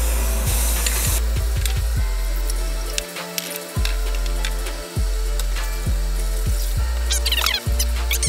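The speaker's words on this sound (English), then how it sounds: "I'm gonna spray some more paint in and continue going" Repeated hissing bursts of a spray paint can painting a dirt scooter deck, close up, with hollow knocks and rattles between sprays.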